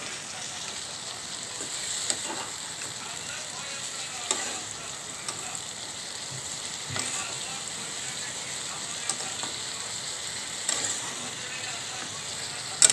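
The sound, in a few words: stirring papaya stir-fry sizzling in a pan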